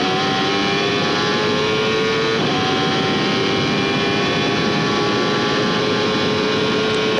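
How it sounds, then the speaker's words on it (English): A 1995 IndyCar engine screams as the car accelerates through the gears along the main straight, a loud continuous on-board howl with rising tones and a brief dip at a gear change, with no voices. "Let's listen to the engine here."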